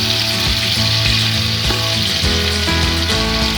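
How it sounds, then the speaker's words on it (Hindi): Three large sliced onions fry in hot oil for chicken biryani, giving a loud, continuous close sizzle with occasional stirring clinks and no talking. "ये मैंने 3 बड़े साइज के प्याज लिए थे और इन्हें हम यहाँ पे करेंगे फ्राई"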